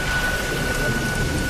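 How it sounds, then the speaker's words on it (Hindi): Heavy nighttime rain pours down steadily and loudly around a temple as wind gusts against its walls, a dense continuous roar with possible low thunder mixed in and no voices. "बारिश अब भी जोरों पर थी और हवाएं मंदिर की दीवारों से टकराकर सनसनाती हुई गुजर रही थी।"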